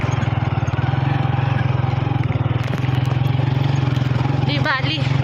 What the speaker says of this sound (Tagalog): Sabi ni Elias, baka ma-flat daw yung motor.